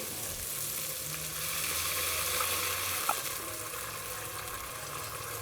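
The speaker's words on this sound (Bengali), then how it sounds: "এখন আমি এতে পানি দিয়ে দেবো" Water goes into a pan of blended chili and spice paste frying in oil, giving a soft, steady bubbling sizzle with faint low kitchen hum and a small knock partway through.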